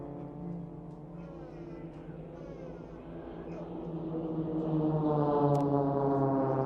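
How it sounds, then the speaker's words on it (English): Extra 300 aerobatic aircraft of the Blades display team fly at the RAF Cosford airshow, a droning multi-toned propeller engine sound that grows steadily louder as the planes approach. "the aircraft that the Blades fly is the Extra 300, and it is purpose-built for aerobatics"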